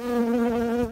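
A bee buzzes close by in a steady, loud, droning hum that holds for about a second and then fades quickly, with no talk.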